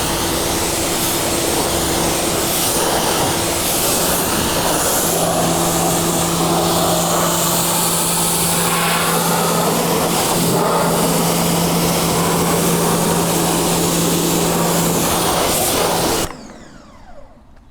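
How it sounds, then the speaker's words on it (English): Water spray rinsing the wheels of a BMW F80 M3, a steady loud hiss of a pressure washer running continuously for about sixteen seconds with a faint motor hum underneath, then cutting off abruptly. "I usually like to rinse my wheels first before I put any kind of chemicals on them"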